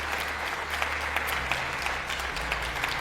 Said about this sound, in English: The Democrats finally clapping?